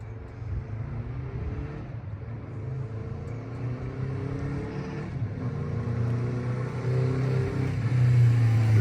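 Honda CB350 Four motorcycle engine idling steadily just after a cold start, a close, even four-cylinder hum that grows slightly louder toward the end, with no voices.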